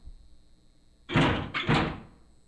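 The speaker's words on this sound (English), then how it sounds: "I don't think you want to try forcing a numbered door open." In the Zero Escape video game, a heavy door is forced, producing two loud rattling thuds in quick succession that fade out, close and without any voices.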